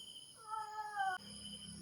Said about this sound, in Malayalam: ഈ വീഡിയോയിൽ മുഴുവൻ ഒരു പൂച്ചയുടെ കരച്ചിൽ കേൾക്കാം.